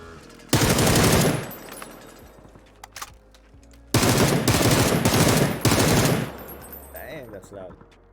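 Automatic gunfire in the video game PUBG heard through HyperX Cloud Mix Buds earbuds, in loud rapid bursts separated by short quiet gaps, with a few single shots and faint game sounds between.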